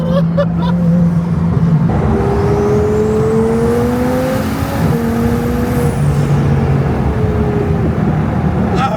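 A twin-turbo Lamborghini heard from inside the car, its engine droning loud and continuous with shifting pitch as it pulls and lets off, turbo flutter mixed into the roar.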